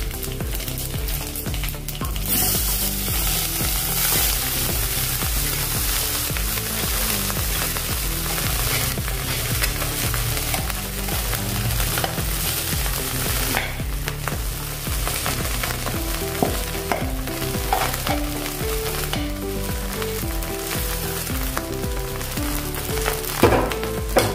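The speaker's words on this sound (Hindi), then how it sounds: "अभी जो हमने पके हुए चावल थे वो इसमें डाल देंगे।" Cooked rice is tipped into a hot pan and stir-fried for a spicy rice dish, giving a steady, close sizzle with scraping stirs throughout, under continuous background music and with no talking.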